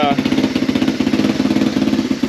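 Old Honda ATV engine running after being started with starting fluid, a loud, close, rapid, even chugging pulse with a steady, rough rhythm and no pauses.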